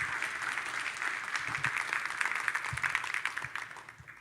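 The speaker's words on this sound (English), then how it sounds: "Give Lindsay another round of applause." An audience at a leadership speaker event gives a guest speaker another round of applause, steady clapping that thins into scattered individual claps toward the end.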